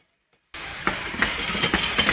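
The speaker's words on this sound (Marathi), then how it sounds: "ही बघा ट्रेन बघायची." A train passing nearby along a railway line, a steady rumbling roar with faint clicking of wheels, starting abruptly after half a second of silence and continuing loud without speech.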